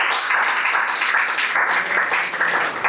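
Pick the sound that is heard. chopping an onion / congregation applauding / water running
congregation applauding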